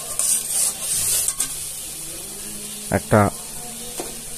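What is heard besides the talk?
spice paste being sautéed in a pan for hilsa fish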